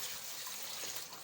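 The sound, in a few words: pouring a dipper of water into a pot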